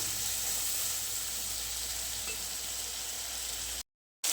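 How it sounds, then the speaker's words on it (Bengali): A spice masala of turmeric and chilli powder, loosened with a splash of water, hisses in a pan in a constant, close, even sizzle that cuts off abruptly near the end. "অল্প একটু জল দিয়ে দিলাম ভালো করে মশলাটা কষে নেওয়ার জন্য"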